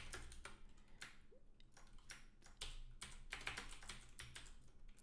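Code being typed on a computer keyboard: a steady run of quick, crisp key clicks and taps at close range, irregular in rhythm with brief pauses, fairly quiet overall.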